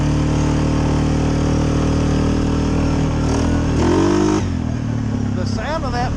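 A 2020 Suzuki KingQuad 750 ATV engine runs steadily in low gear, a loud, close, even drone that shifts pitch briefly near the end; no talk is heard.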